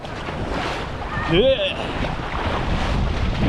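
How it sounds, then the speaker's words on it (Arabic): A beach in Sardinia, with steady wind rushing over the microphone and waves washing in, while someone speaks briefly over it. "واخيرا ها شط من شطوط سردينيا"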